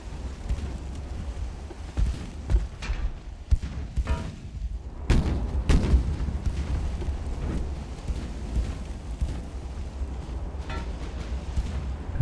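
Naval battle in Ultimate Admiral: Dreadnoughts, low rumbling engine and sea noise broken by several thudding shell hits and booms, two sharper impacts close together near the middle, then a steady low rumble.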